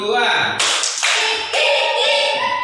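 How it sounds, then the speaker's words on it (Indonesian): A classroom group claps together on cue, sharp bursts of hands in unison separated by brief pauses, close and loud, with a leader's voice calling out between the claps. "Tepuk satu. Tepuk dua."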